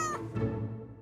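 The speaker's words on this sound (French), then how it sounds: "Voici Noisette, le chat de garde du château." Noisette, a castle's resident guard cat, gives a single short meow close by, a quick rising cry that fades into room murmur.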